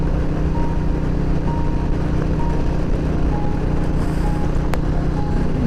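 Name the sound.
truck driving past on road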